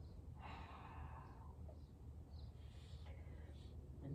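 Slow exhaling breath during a yoga cat-cow pose, a soft breathy whoosh of about a second, followed by quieter breaths, faint and close in a calm quiet room.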